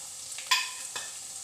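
Garlic and onion fry in a pan for bitter gourd gojju, giving a quiet, brief sizzle with one or two soft stirring scrapes and no voices.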